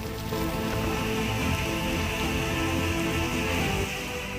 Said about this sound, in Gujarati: જાફરાબાદના ગ્રામ્ય વિસ્તારમાં ધોધમાર વરસાદ પડ્યો છે